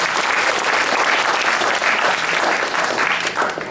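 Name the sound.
audience round of applause for Tim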